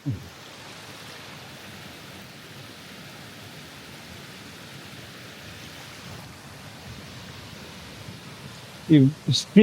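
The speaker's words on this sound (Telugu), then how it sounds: "ఇదంతా వాటర్ ఫాల్టే" Broad steady rushing water from a waterfall in New Zealand, continuous and fairly loud, with a few short bursts of a voice near the end.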